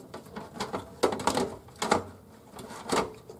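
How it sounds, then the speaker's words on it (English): A screwdriver tightens the screws holding a power supply to the back of a computer case, giving a series of close, scratchy ratcheting turns in several short bursts. "tighten the four screws on the back of the case"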